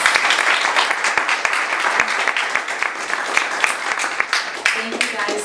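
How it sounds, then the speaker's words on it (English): An audience at an infrastructure and innovation panel applauds the two panelists, dense sustained clapping from a roomful of people, loud and close, fading slightly toward the end with some voices mixed in. "So, round of applause for our two panelists."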